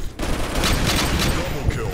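Rapid, loud bursts of video game gunfire in a winter-themed shooter fill the whole stretch, with repeated sharp shots blending into a dense, steady barrage.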